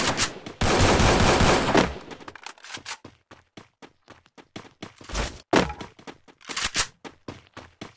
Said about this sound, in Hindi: इतनी गोली मारी कनेक्ट नहीं हुई यार सही से